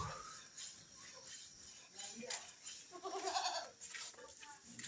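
Goats bleat in a rural village farmyard, a few calls rising over a steady outdoor background, with people talking nearby.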